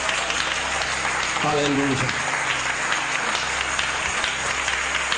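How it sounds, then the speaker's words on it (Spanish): A church congregation claps in praise, a continuous wash of applause filling the space while a voice calls out over it briefly. "Denle un aplauso al Señor."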